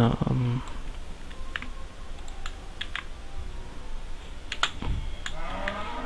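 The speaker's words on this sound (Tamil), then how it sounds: "இது மாதிரி டிஃப்ரெண்ட் டைப்பாக நம்ம டைப் பண்ணிடுறோம்." Someone types on a computer keyboard while working through a basic XHTML and CSS page, with irregular clusters of close, crisp key clicks and a few louder taps, and a voice talking over them at the start.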